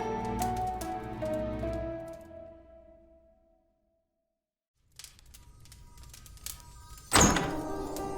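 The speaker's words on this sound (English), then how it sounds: "The front door banged open with a gust of cold air and a flurry of snowflakes." A front door bangs open in an audio drama, a sudden loud thump late on, following sustained musical tones, a stretch of near silence and soft rain-like patter.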